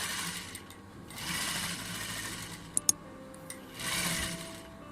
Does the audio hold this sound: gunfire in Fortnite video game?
no